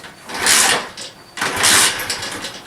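A small Honda Z50 clone minibike engine catches and runs briefly in two loud rough bursts, sputtering and dying back between them, close by.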